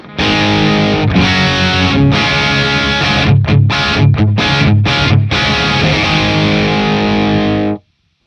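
Heavily distorted electric guitar through a Marshall JCM 800 2203 reissue tube amplifier plays thick, sustained 80s hard rock power chords with a few choppy stabs, loud and full, cutting off abruptly at the end.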